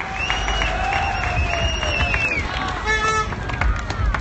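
Crowd applause and cheering for cyclist Thomas Voeckler on a podium stage, a steady wash of clapping under a sustained musical tone and some overlapping voices.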